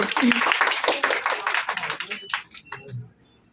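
Audience clapping at an award show, a brisk burst of many hands applauding that thins out and fades over a few seconds, with voices mixed in.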